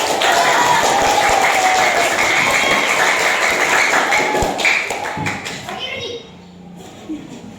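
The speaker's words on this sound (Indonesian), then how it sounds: "Tepuk tangan." Children in a classroom clap together in a dense, steady burst that carries on for several seconds before thinning out and fading near the end, with some talking mixed in.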